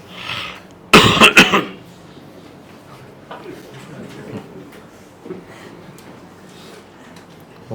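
A short burst of harsh coughing, three or four hacks close to the microphone, followed by quiet room sounds and a few soft movements.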